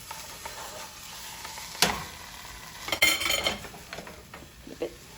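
A vegan omelet made from Just Egg frying in a pan, a steady low sizzle with a few sharp metallic scrapes and clinks of a utensil against the pan, and no voices.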